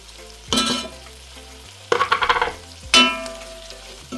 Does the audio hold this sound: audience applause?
no